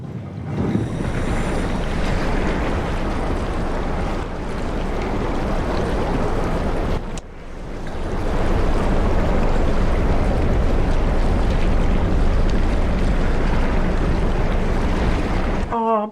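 Deep-ocean underwater ambience in the video game SOMA, a dense, loud rushing and churning wash that holds steady, briefly drops out midway, then swells again.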